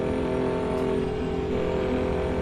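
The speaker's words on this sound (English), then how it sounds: "You can hear that engine like just full revs." Truck engine at full revs in the American Truck Simulator video game, a loud, steady, droning roar held at constant pitch without a break.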